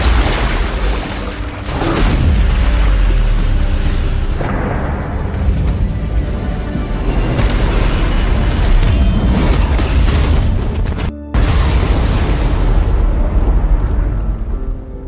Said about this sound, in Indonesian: Tidak lama kemudian ledakan pun terjadi.